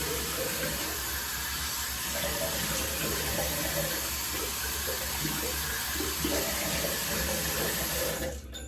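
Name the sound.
rinsing at the sink after the first shaving pass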